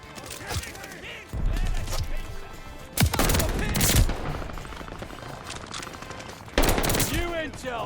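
Machine-gun fire in the Call of Duty Vanguard beta, close and loud, with several hard bursts and sharp single shots spread across a noisy game soundscape, with a voice speaking between them.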